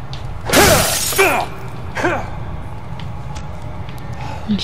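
In the Silent Hill Downpour game, a blow against unbreakable glass lands as a sharp crash with a ringing shatter-like burst, then a couple of fainter ringing knocks follow.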